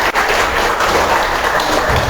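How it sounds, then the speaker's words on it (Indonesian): A church congregation at a Sunday service clapping and cheering for Jesus, loud, dense, sustained applause filling the hall with no pauses. "Bagi satu sorak-sorai buat Tuhan Yesus"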